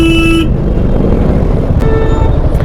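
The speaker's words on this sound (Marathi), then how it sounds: "बट खूप ट्रॅफिक आहे इथे सध्या" Car horns honk amid heavy city traffic, one sustained horn blast at the start and a fainter toot later, over a loud constant rumble of engines and road noise.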